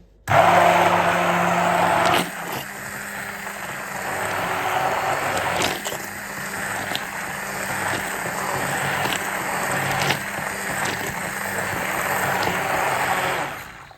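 A blender whirs loudly and steadily while whipping homemade green herb oil, starting abruptly, dipping briefly after two seconds, then running on with faint clicks before stopping.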